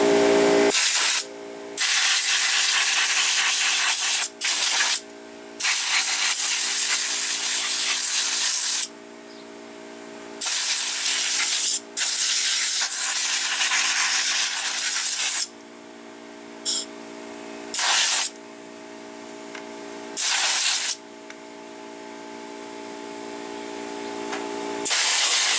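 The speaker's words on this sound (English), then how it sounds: "It's always best to let the air compressor charge back up and re-blow stuff out again." Compressed air from an air compressor blasts dust out of a desktop PC in long, loud hissing bursts with short pauses between them, close and steady throughout.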